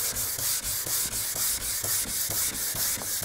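Sandpaper scrubs a Mercedes W203 car hood down to bare metal in steady, rapid back-and-forth strokes, a close, loud, rhythmic rasping with no talking.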